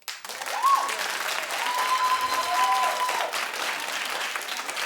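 A talk-show studio audience claps steadily for about five seconds, a dense, even wash of applause with a few faint whistles or cheers over it.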